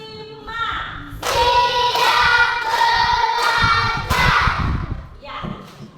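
Classroom children clap in rhythm, a sustained run of loud group clapping with a few accented beats, then a brief final burst as voices return.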